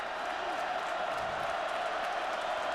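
A stadium crowd roaring after a kick return at a 2012 Wisconsin vs Utah State college football game, a steady distant wash of cheering filling the air under a broadcaster's voice.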